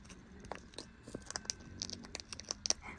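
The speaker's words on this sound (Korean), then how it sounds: "헬멧을 씹는 이 잔망스런 잎 앵두" A New Guinea eclectus parrot chews on a helmet, giving quiet, close crunching and gnawing with irregular sharp clicks and bites scattered through a few seconds, no talking.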